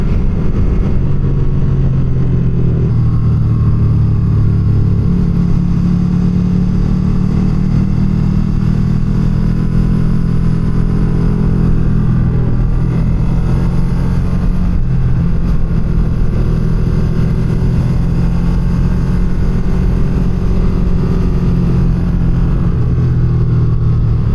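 A Ducati Streetfighter motorcycle cruising steadily in third gear, its engine a loud, continuous low drone with wind rush throughout and no talking.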